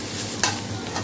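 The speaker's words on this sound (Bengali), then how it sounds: "একসাথে কষিয়ে দিচ্ছি" Onion, green chili and tomato sautéed together with soybean give a brief, steady close sizzle with a single sharp stirring scrape partway through.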